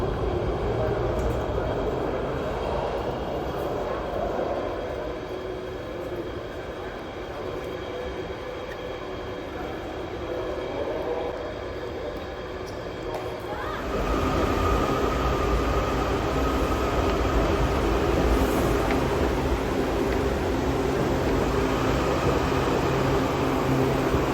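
A Washington DC Metro subway train rumbles and hums for a long stretch, growing louder about halfway through as the carriage noise swells, with faint voices mixed into the steady rail drone.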